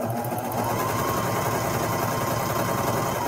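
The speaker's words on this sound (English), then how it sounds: "I'm going to go ahead and sew that curved seam" A sewing machine runs steadily at close range, stitching the curved seam of a pocket pouch for boys' sweat shorts in a continuous, even whir with no pauses.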